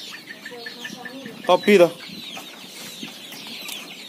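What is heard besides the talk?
chickens clucking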